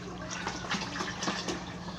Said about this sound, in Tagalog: Kuhanan mo natin sila ng tubig para ilipat natin yan dito sa timba.